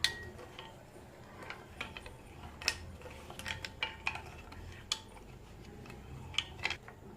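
A spoon stirs sugar into homemade coconut milk in a bowl, giving quiet scraping and a scattered run of small metallic clinks and taps against the vessel, steady and close, with no talking.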